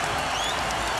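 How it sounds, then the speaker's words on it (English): A packed arena crowd at the 2001 NBA Finals, Game 4 between the Lakers and 76ers, roars and cheers steadily to encourage the 76ers late in the half, a dense continuous wash of voices with no break. "Crowd trying to encourage the 76ers with time running down in the half"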